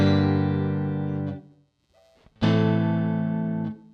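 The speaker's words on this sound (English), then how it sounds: "Small room reverb." Electric guitar through a Fender Mustang Micro Plus set to small room reverb: two loud, sustained strummed chords, each fading with a short reverb tail, separated by a brief quiet gap.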